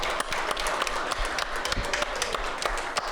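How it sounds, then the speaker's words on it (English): An audience at a local sports talk show claps in a steady, fairly soft round of applause, many hands blending into a continuous patter with scattered sharper claps. "let's give a big round of applause for South Louisiana Bank in the house today"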